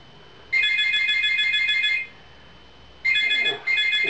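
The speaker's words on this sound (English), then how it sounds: "A phone call, probably a bloody telemarketer." A landline telephone rings indoors with a loud, steady electronic trill. One long ring is followed by a pause, then two shorter rings close together.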